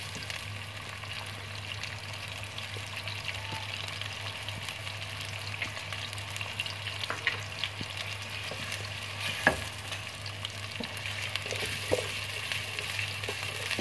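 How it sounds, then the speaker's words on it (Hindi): Cumin seeds sizzle steadily in hot oil in a pan for lobia masala, a continuous close crackling hiss with a few scraping stirs and occasional louder pops, with no speech. "साथ ही हमने इसमें जीरा डाल दिया।"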